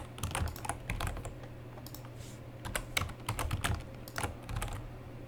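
Rapid, uneven clatter of a computer keyboard being typed on during 3D modeling work in Blender, close and steady, with brief pauses between flurries of keystrokes and a low hum underneath.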